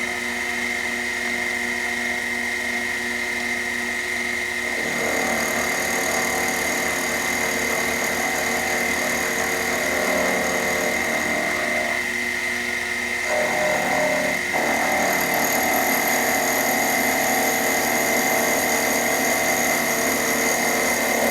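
A small Sherline lathe in a clockmaker's shop cuts a little piece of aluminum with a steady, whining machine hum and a high ringing tone. The note shifts as the cut engages, runs on continuously, and no one speaks.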